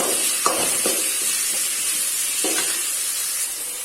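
Cashews fry alongside chayote in a pan for a butter masala, producing a loud steady hiss with a few soft stirring scrapes, heard close and alone.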